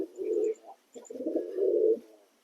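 A young pigeon coos close by in two low, throaty, rolling phrases, the second longer, with faint high chirps from other birds around it and no talk.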